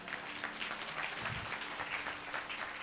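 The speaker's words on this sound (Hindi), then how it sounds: "हालेलुया, ताली बजाएंगे जोर से" A congregation at a Sunday church service claps loudly, with dense continuous applause from a crowd that fills the whole stretch.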